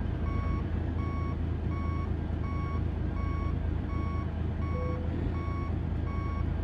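Steady, evenly spaced reversing beeps from a truck in American Truck Simulator, loud and continuous over a low engine rumble, with no talking.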